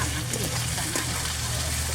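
Ginger-garlic paste hits chicken frying in a pan in a village kitchen, a loud steady sizzle and crackle filling the whole stretch, with a voice faintly underneath.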